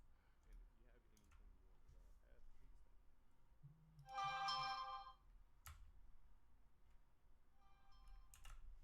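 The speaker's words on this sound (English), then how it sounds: "Sorry, that was just my phone." A mobile phone rings with a short burst of bright electronic tones, loud and close, interrupting faint clicking and quiet background sound.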